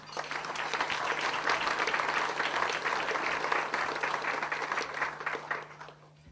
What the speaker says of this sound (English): Round of applause, please, for Glyn